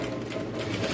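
Sewing machine stitching a pattupavada, a traditional silk girl's skirt, running steadily and close for the full second with a dense continuous whir and no pauses.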